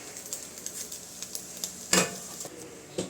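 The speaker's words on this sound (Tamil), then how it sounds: "இப்போ கிளறி விட்டுக்கலாம்" Cabbage, carrot and beans sizzle and fry in a pan while being stirred, with steady crackling broken by repeated scraping strokes and one louder clatter near the end.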